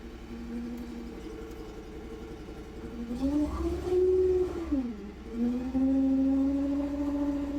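A small diesel excavator engine idles steadily, then revs up and back down twice, its pitch rising and falling, recorded close by.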